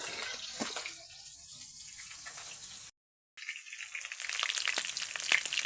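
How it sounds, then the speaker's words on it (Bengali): Onions frying in hot oil in a kadai hiss with a steady close sizzle and crackle, broken by a brief gap and then louder and busier; no one speaks. "তেলটা গরম হয়ে গেছে, পেঁয়াজ দিয়ে দেবো।"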